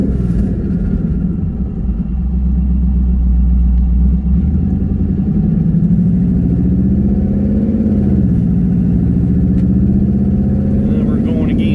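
A truck fitted with a built Stage 4 Suncoast 10R80 transmission drives along with a steady engine drone that rises and falls as it jumps in and out of gear, heard close and loud with a voice talking over it.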